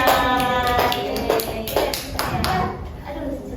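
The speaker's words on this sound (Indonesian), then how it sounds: "Tepuk tangan dulu buat kelompok Amara." Classroom applause for a student group, a short burst of scattered hand claps that rises and fades over a few seconds, with voices mixed in.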